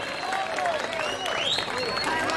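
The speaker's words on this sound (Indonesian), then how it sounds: "Kasih tepuk tangan yang meriah buat Laskar Adahlaniyah." A crowd at a 50th milad celebration for a pesantren leader applauds the Laskar Adahlaniyah group, a fairly soft wash of clapping under festive whistling or chanting voices.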